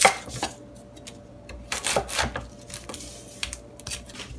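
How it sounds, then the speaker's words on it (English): A knife slices onions on a board in quick bursts of crisp, close cuts separated by short pauses, with no talking. "we're gonna slice up our onions"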